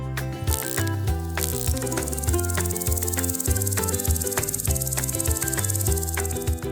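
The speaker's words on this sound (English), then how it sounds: "Grasshopper." A grasshopper chirps in rapid, repeated trills that pulse in a steady rhythm over a continuous background, with no one talking.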